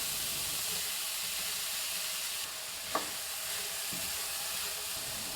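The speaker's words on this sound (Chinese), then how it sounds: "准备一个不粘锅，放入10克的黄油，搅至黄油融化的状态， 加入我们切好的苹果丁" Diced apple frying in melted butter in a non-stick pan, a steady close sizzle and hiss with a brief sharp clink of a spatula midway, no talk.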